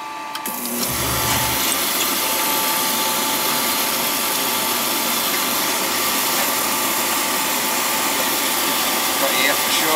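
An oil burner fires up with a sudden whoosh after a brief quiet start, then settles into a loud, steady roar that holds for the rest of the stretch.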